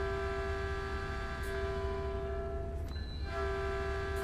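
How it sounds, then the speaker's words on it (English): In Train Sim World, a Metrolink F59PH locomotive sounds its horn at a station: two sustained, loud, steady chord blasts separated by a brief gap. "We'll give 2 honks and a bell."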